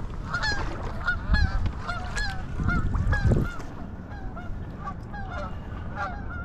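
A flock of geese along a stretch of shallow water honk repeatedly and close by, overlapping calls continuing throughout with wind noise in the background.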